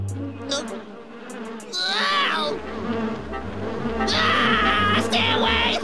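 Cartoon bees buzz in loud, wavering bursts over a busy musical score, the swarm drone swelling twice across the stretch.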